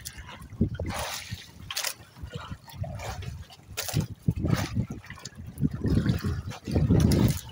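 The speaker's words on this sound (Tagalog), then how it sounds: "Kasi malakas ang alon. Malaki. Malakas ang hangin." Strong sea waves and gusty wind buffet a small fishing boat out on grouper grounds, with rushing, splashing water noise that swells and drops unevenly, and voices talking over it.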